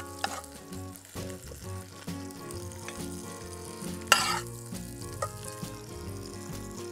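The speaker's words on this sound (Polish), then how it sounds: "W międzyczasie mój karp się smaży od strony skórki" Carp frying skin side down in a pan, giving a soft continuous sizzle and crackle with a few sharper pops, near and fairly quiet, with no talk.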